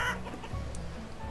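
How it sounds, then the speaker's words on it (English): Backyard chickens cluck softly and intermittently, a low murmur of short clucks with a brief higher note, moderately close and without talk. "Personally, I actually do have 4 chickens."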